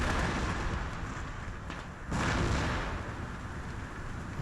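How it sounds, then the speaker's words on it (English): Artillery cannon fire on a distant battlefield in Empire: Total War, heard as a continuous rumbling wash of far-off booms with a sharp fresh surge about halfway through, no voices over it. "there's an excellent artillery ball shot right there, taking out 5 Spanish men"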